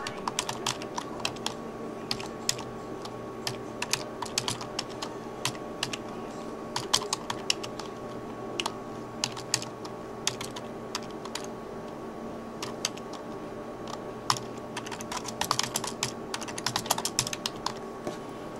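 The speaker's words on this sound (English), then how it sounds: "We will type in their ID information." Typing ID details on a computer keyboard at a mailbox rental counter, a long stream of quiet, quick key clicks in irregular bursts over a steady electrical hum, with no voices.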